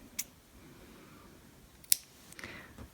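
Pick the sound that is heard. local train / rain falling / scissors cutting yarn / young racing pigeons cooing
scissors cutting yarn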